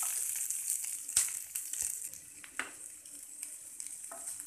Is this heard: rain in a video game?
no